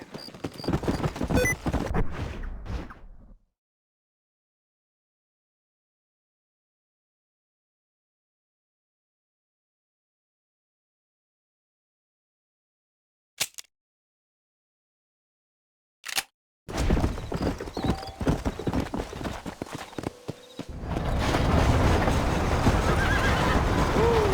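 Horse in the Red Dead Redemption video game, with bursts of neighing and hoof clip-clop at the start and end, separated by a long stretch of silence broken only by two brief clicks.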